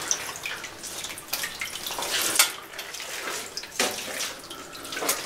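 Water trickles and drips steadily through an old mine adit with timbered sections, a soft splashing flow with brighter bursts of spatter, nearby and unbroken by speech.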